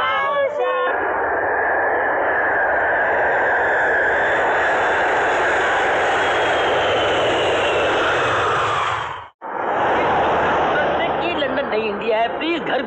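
A fixed-wing airplane landing, a loud sustained engine roar that fills the clip with a brief dropout near the end, heard up close with no talk.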